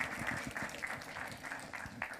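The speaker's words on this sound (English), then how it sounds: "I don't know if they're clapping for you or me" Audience applause after a talk on teaching content marketing to college students: a steady patter of clapping at moderate level, with a faint voice underneath.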